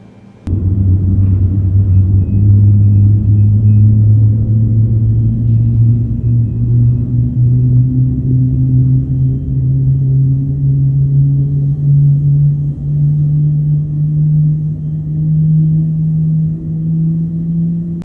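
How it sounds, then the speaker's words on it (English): A Boeing 777 jet engine in Microsoft Flight Simulator spools up from a sudden start into a loud, steady low rumble, its deep whine slowly rising in pitch over many seconds, alone with no talk. "Starting engine 2 like normal."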